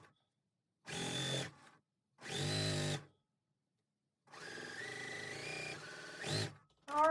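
A sewing machine stitching a checkerboard basket quilt block runs in bursts, with two short even whirs, a pause, then a longer run that revs up near its end before another brief start.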